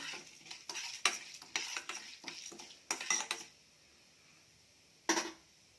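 Seeds crackle and spit in hot oil in quick bursts alongside a spoon scraping the pan, then quiet before one last short burst of sizzling.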